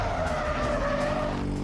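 Car tires squeal continuously through a handbrake-started drift on a track, loud and close with engine roar underneath, held steady for the whole moment.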